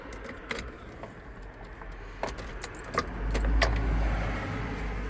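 Keys jingle in the ignition of a camper van that has stood unused since April, then the engine turns over and settles into a low, steady rumble.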